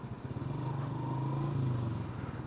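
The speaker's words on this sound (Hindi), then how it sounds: "यहाँ पे गाड़ियों का काफ़ी रश लगा हुआ" Heavy vehicle traffic near a mountain lake on the Babusar Top route, heard from a motorcycle, forms a steady, close engine drone with a continuous low hum that holds for the whole stretch.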